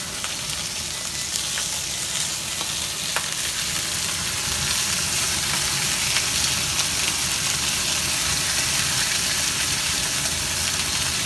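Steaks searing in a hot pan after being flipped: a loud, dense, continuous sizzle and crackle that holds steady throughout, with no voices.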